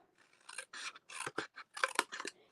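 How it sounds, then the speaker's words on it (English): Scissors snip and rasp through thick card stock while a paper box corner is mitered off for a Christmas card, a series of short, close crisp cuts with brief pauses between them. "I'm going to miter this corner off"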